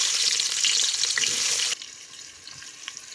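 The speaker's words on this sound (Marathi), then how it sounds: "हा ह्या तेला कांदा भाजून घ्यायचा" Onion frying in hot oil in a pan, a bright dense sizzle that drops suddenly to a quieter simmer halfway through, with light stirring clicks.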